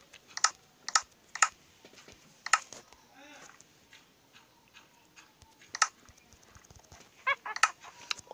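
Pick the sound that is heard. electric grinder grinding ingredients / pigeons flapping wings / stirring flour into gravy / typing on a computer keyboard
typing on a computer keyboard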